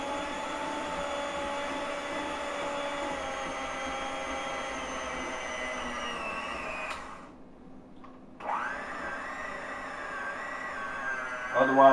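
Electric mixer whirring steadily at low speed through lemon bundt cake batter, a dense motor hum that dips and cuts out briefly near the middle before starting back up and rising toward the end.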